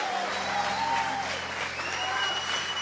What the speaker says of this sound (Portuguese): Você pode aplaudir o nome do Senhor? Bem forte para Jesus.